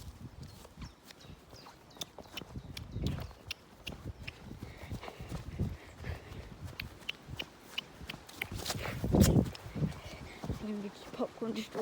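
Hooves of Popcorn, a horse being ridden at a show, clip-clopping steadily at close range with a louder thump near the end, while a rider talks over the footfalls.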